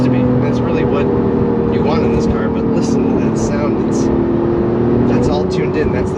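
The engine and exhaust of a 2019 Porsche 911 Carrera 4S in Sport Plus mode give a steady droning rumble with a few rising tones, heard under close speech from inside the car.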